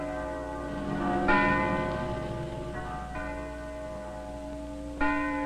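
Bells of St. Stephen's Church ring out in several resonant strikes, each leaving a long humming decay. New peals start about every couple of seconds, with no talk over them.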